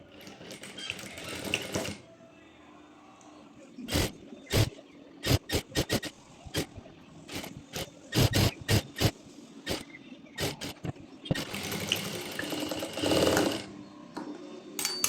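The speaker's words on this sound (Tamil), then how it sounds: "1/2 இன்ச் கொடுத்துருக்கேன், 1/2 இன்ச்சில் ஸ்டிச் பண்ணுறேன்." A sewing machine stitches a palazzo pant seam at a half-inch allowance, whirring in fast, close bursts at the start and again near the end. Sharp clicks and brief handling taps fall in between.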